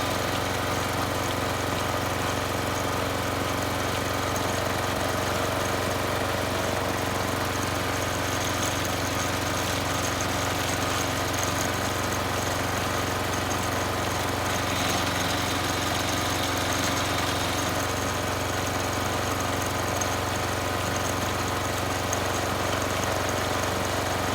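A yard kart engine, freshly fitted and running with a sound transmission, idles steadily for the whole stretch, a constant low mechanical drone like a small lawn mower motor, close and even, with no speech over it.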